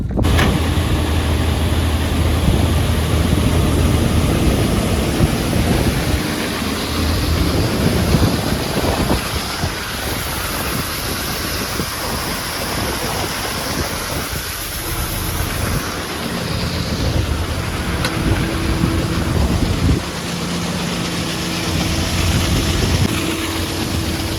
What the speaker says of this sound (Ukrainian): заводимо комбайн, їдемо, косимо вже ділянку, де ми кропили